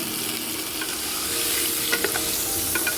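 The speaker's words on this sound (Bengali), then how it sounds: "আলুটা আমি ভাজতে দিয়ে দিলাম" Potato pieces frying in oil in a pan with salt and turmeric, a close, steady sizzle with a few stirring clinks and scrapes near the end, no voices.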